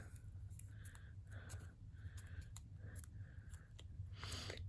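Scissors snip the corners of paper to shape an envelope flap for a mini tag, a series of soft, close crisp cuts in a steady rhythm, alone without talk.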